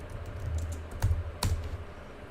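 Keys tapped on a computer keyboard while typing into a Microsoft Excel spreadsheet cell, with a steady patter of soft close clicks and two sharper, louder keystrokes standing out over a low background hum.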